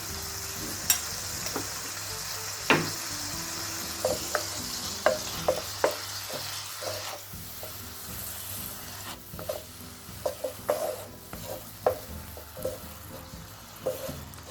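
Minced meat sizzling steadily in a frying pan with paprika added, with intermittent sharp clicks and scrapes of stirring over the continuous hiss, no voices.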